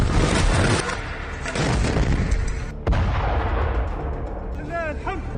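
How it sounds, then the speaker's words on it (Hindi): Heavy blasts and rumbling booms crash through an Israeli Merkava tank hit in combat, loud and harsh, with a sharp crack midway and lingering roar afterward, followed by a faint high whine near the end. "इजरायली टैंक में एक धमाके का वीडियो आपको दिखाते हैं।"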